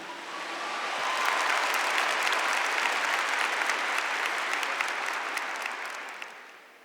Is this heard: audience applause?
yes